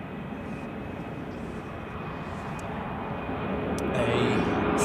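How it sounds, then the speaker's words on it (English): ULS Cargo Airbus A330-343 freighter, converted from passenger configuration, at Zurich Airport in winter, a broad steady engine roar that builds gradually as it approaches, with faint clicks on top. "A specially freighter configured A330-343. Used to be a passenger aircraft, but then was configured to a freighter."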